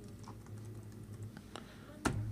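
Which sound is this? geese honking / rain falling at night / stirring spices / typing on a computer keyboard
typing on a computer keyboard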